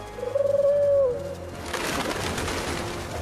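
Cartoon pigeon coos in an animated Paris setting: one drawn-out warbling coo close and fairly loud, then a softer wash of flapping and ambient noise after it, with no talking.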